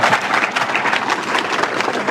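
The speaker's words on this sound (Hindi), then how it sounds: "तो एक बार फिर तालियां बच्चे के लिए।" Loud, dense applause from a group of students at a defence academy result event, continuous rapid clapping close by with no talk over it.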